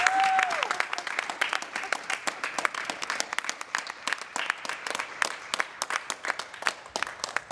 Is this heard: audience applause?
yes